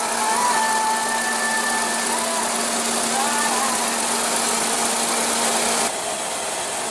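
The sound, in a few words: 2015 Nissan Sentra 1.8 L four-cylinder engine running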